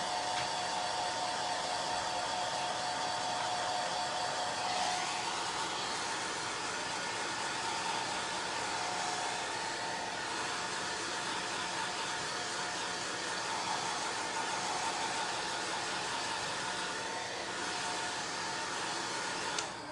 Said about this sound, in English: I'm going to take my dryer, go ahead and dry this